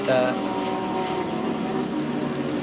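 A race car engine that sounds faulty in Assetto Corsa drones with a steady, buzzing harmonic tone throughout, fairly loud and even, under a commentator's talk.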